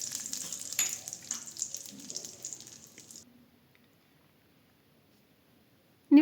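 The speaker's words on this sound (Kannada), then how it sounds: "ಲೋ ಫ್ಲೇಮಲ್ಲಿ ಫ್ರೈ ಮಾಡ್ಕೊಳ್ಳಿ." Dry fruits crackling softly in hot ghee in a kadai on a low flame, a gentle sizzle with a few stirring taps that fades to near silence, ending with a sudden loud bump.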